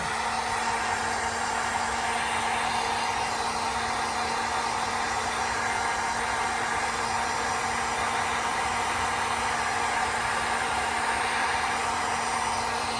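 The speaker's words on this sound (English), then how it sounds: "I'm going to get my heat gun, just like last time, upside down, low, and I'm going to heat that wave up." A heat gun on a low setting blows steadily at close range while heating a resin wave in a tray, a continuous even hiss and whir with a faint hum and no pauses or talking.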